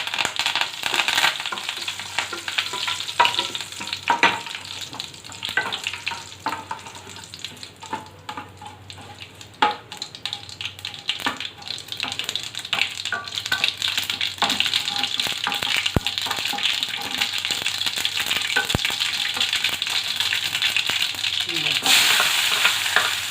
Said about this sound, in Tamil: கருவேப்பிலை போடுவோம்.